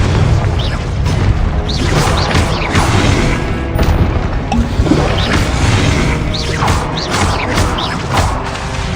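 A Confringo fire spell explodes in the Hogwarts Legacy video game, producing a loud, continuous wash of booming blasts and crashing, crackling debris that runs without a break the whole time.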